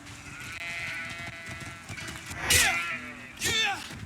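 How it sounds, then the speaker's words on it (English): Sheep bleating in the fantasy role-playing game Greedfall, two distinct wavering bleats close by over a steady ambient outdoor background. "There's like sheep?"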